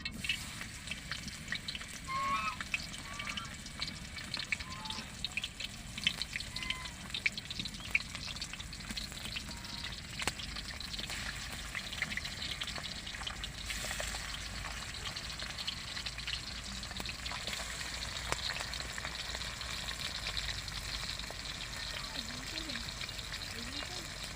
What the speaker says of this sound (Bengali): তেলটা মনে হয় গরম হয়ে গেছে। মাছটা দিয়ে নিলাম।